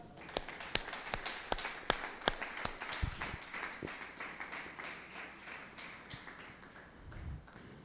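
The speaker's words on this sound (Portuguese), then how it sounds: "Então dá uma salva de palmas ao Senhor." A church congregation claps after a sermon, starting as sharp separate claps that quickly blend into a soft, distant patter of applause in a reverberant hall.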